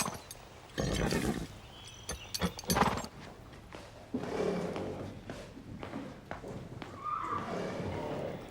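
Horse sounds from a cartoon episode about riding: a whinny near the end among thuds and hoof-like clopping, fairly close, mixed with background noise and a bit of voice.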